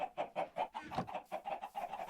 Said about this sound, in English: This is the first chicken we have acquired all game.